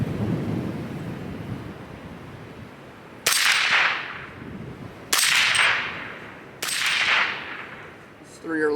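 A 16-inch Faxon-barrel AR rifle in 300 Blackout fires 150-grain rounds at an outdoor range: three sharp, loud shots spaced about two seconds apart, each trailing off in a rolling echo over wind noise.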